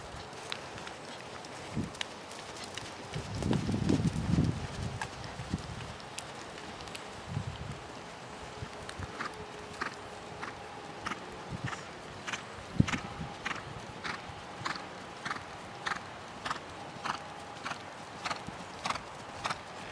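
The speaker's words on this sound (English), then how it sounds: "whenever you're ready, just canter him" A horse canters on soft ground in a riding session, with rhythmic clip-clop hoofbeats that become steadier and evenly spaced toward the end, plus occasional rustling and faint background noise.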